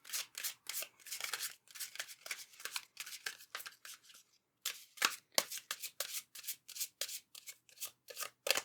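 Tarot cards are shuffled and drawn by hand in quick riffling bursts, crisp papery flutters repeating close and soft, with one short pause midway and no voices.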